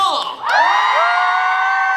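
An audience at a curtain call for a special stage show cheers and shouts in a sustained, loud crowd roar that swells after a brief dip and holds steady to the end.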